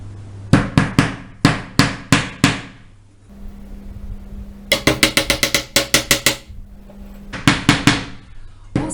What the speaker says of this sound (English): don't hammer your nails too low.